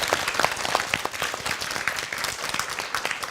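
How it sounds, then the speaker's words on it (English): A studio audience bursts into steady, dense applause on a competition show, many hands clapping at once in a continuous wash with no voices above it. "Let's give a round of applause for Jungmin."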